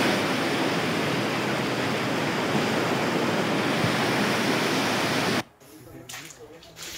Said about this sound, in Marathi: पावसामुळे बामणी दगडी नदीला पूर आल्याचंही पाहायला मिळतंय